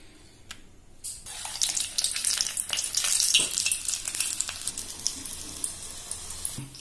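Ajwain leaves dipped in batter and dropped into hot oil as bajji, giving a bubbling fry sizzle that swells after a brief pause, with wet spattering and crackle before settling into a softer steady hiss.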